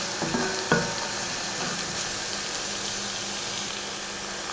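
Turmeric powder fries in a pan while being stirred, producing a steady, close sizzle with a couple of scraping clatters near the start and no talking.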